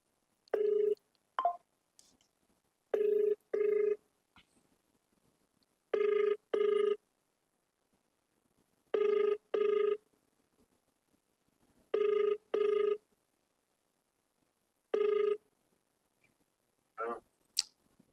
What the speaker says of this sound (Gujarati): એ નંબર પર આપણે ફોન કરીએ.